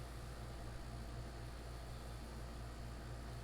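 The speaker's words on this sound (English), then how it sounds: "I gotta keep the air conditioner pumping" A boat cabin air conditioner hums without a break, a constant airy hiss over a low mechanical drone, with no voices.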